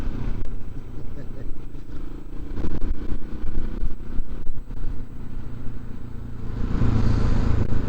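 Honda and Husqvarna motorcycles riding on a trip to Copper Canyon, Mexico, engines droning and rising under throttle with wind rumble and a voice talking over them.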